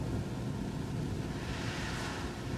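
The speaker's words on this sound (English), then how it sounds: "The sound of water." Water washing and rushing steadily like surf or waves, a broad continuous wash with no distinct breaks, moderately loud and alone.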